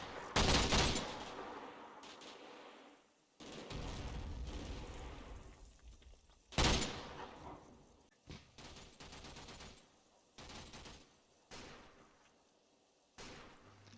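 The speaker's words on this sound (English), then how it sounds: "The Vickers in Overwatch provide suppressive fire support." Vickers machine guns laying down suppressive fire in the Combat Mission war game at Monte Cassino, fairly distant bursts of automatic fire with sharp reports, uneven bursts and gaps across the battle, without speech.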